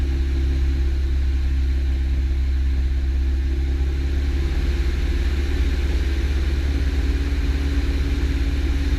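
A light aircraft engine drones steadily after being throttled back in the airport traffic pattern, with a constant low rumble and hum that eases slightly partway through and continues without pause.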